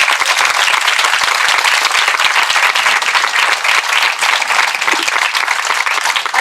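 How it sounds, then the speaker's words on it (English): Loud, close audience applause at an outdoor park groundbreaking ceremony, dense continuous clapping with scattered sharp individual claps throughout, sustained at full strength. "Give them one more round of applause."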